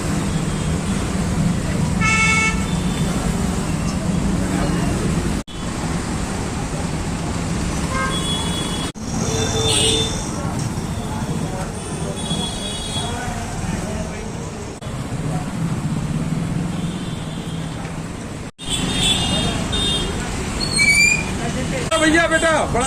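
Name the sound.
traffic jam with cars honking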